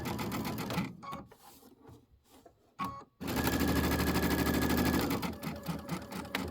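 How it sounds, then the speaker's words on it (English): A sewing machine stitches around the outer border of a mini quilt in two loud, rapid bursts of stitching separated by a short quiet pause with a brief clack. "I just sewed around the outside in the outer border"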